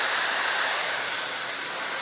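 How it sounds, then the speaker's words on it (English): Steady, close rush of a Harry Josh blow dryer drying hair, a broad hissing airflow that holds constant and eases only slightly toward the end, with no talking. "Pull the blow dryer away."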